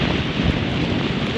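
Strong wind buffets the microphone in a dense, roaring rush that continues without a break, loud and close, along a roadside where tilapia lie scattered.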